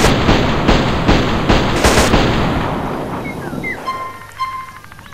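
Rapid bursts of gunfire from a modded rifle in GTA San Andreas, part of a black and red weapon pack, crack loudly in a tight repeating rhythm before fading into quieter game sounds and thin tones.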